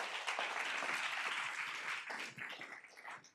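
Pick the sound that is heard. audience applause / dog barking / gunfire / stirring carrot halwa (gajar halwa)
audience applause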